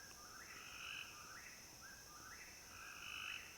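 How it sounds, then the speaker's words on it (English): Frogs croaking at night in the Tennessee countryside, a steady chorus of repeated rising calls over a constant insect-like drone, moderately distant and with no talk. "You can hear the frogs hollering too."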